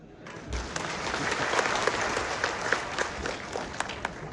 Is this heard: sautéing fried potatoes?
no